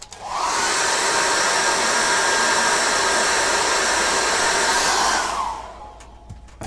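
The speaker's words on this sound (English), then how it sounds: "I'm going to dry that off quickly." A hair dryer blows steadily over acrylic paint, a loud close whooshing roar that starts abruptly, holds for about five seconds, then winds down and cuts off.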